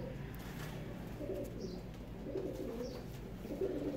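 Pigeons for sale are cooing in soft, low repeated calls, several throaty phrases in a row, close but faint against a quiet background.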